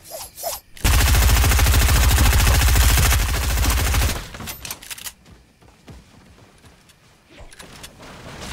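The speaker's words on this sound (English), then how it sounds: "Normal SMG." Submachine gun in Fortnite firing one loud, sustained rapid burst of about three seconds. A few scattered softer game sounds follow, with no talk.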